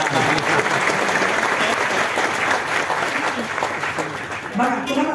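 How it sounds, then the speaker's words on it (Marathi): An audience applauds steadily and densely for about five seconds, a continuous close wash of many hands clapping with some voices mixed in near the end. "एका हुशार लोकांसाठी जोरदार टाळ्या झाल्या पाहिजे"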